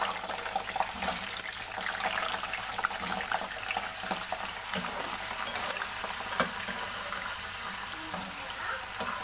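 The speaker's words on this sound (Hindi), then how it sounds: "और ये मैं सबसे पहले आलू फ्राई करूँगी।" Potatoes frying in a hot kadai, a steady broadband sizzle and crackle running throughout, with occasional clinks of utensils and some faint watery sounds mixed in.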